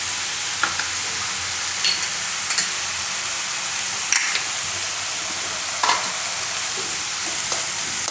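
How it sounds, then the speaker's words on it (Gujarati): Turmeric roasting in hot oil, a loud steady sizzle close by with occasional light spoon scrapes and taps as it is stirred. "હળદરને થોડીક વાર આપણે તેલમાં આ રીતે શેકી લીધી."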